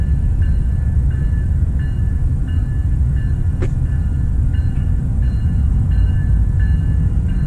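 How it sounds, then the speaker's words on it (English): A steady low rumble of a passing freight train in Dallas with rhythmic clicks of wheels over rail joints, loud and continuous, one sharp crack partway through. "Look at that, a freight train."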